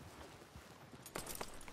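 Horse hooves clip-clopping at a walk in Red Dead Redemption 2, a quiet, steady series of soft thuds under low ambient noise, brief and moderately near.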